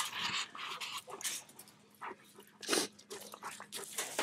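Raccoon dog whimpering and yipping in short broadband bursts, fairly close, with a few higher squeals and brief gaps between the calls.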